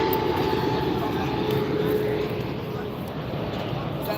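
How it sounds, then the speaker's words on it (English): A loud airplane passes overhead above a park during an amateur soccer match, a steady broad engine roar filling the background. "Holy fuck, that plane is loud."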